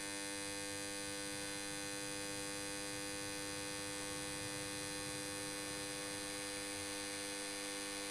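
A three-phase induction motor runs at no load on a star-delta starter fed through a variac, giving a steady, continuous electrical hum with strong harmonic tones that holds unchanged throughout, with no voices.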